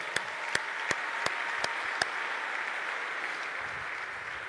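A church congregation applauds during a sermon, a sustained, even wash of clapping from many hands, with a few sharp, louder claps standing out near the start.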